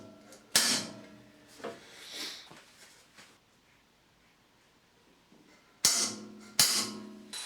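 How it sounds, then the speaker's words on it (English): Centre punch struck with a hammer to mark a drilling line for a patio door lock: four sharp metallic taps, one near the start and a close pair near the end, with softer handling knocks between. "I'm going to start off by centre punching on that line just there"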